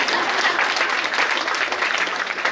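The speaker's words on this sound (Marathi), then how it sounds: "वाजवा टाळ्या." A crowd gathered at a Gopalkrishna temple claps together, a full steady round of close, fairly loud applause without pauses.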